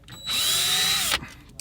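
A power driver spins out a T20 Torx screw from the radio of a 2010-2014 Volkswagen Golf GTI, one steady whirring burst of about a second, close and loud, then quiet.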